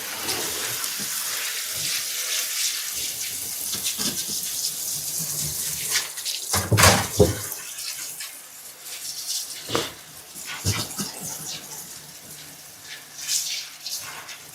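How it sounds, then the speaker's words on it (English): Tap water runs steadily into a sink during rinsing after scrubbing with a nonscratch scouring pad, with a few louder splashes and gushes as the flow is disturbed, close by and without speech. "Get this all rinsed off."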